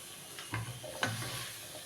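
Chickpeas tipped into a pan of fried spices, giving a low steady sizzle with two sharp stirring scrapes close by, in a short stretch without voices.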